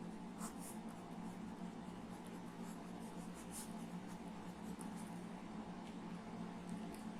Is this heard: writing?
yes